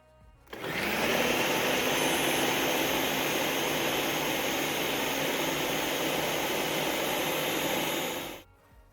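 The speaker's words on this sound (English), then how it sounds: "Get out your food processor and add the chopped peppers, minced garlic, mushroom caps, and non-dairy cheese." A food processor whirs steadily for about eight seconds, blending chopped peppers, minced garlic, mushroom caps and non-dairy cheese, with an abrupt start and stop and no talking.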